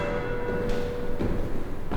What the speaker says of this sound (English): The bells ring as a signal to people to come.